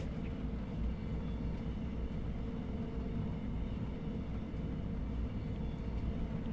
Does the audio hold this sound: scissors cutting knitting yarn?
no